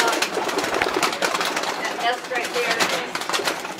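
Racing pigeons in a loft, soft cooing and bird rustling heard near under ongoing conversation from people in the loft.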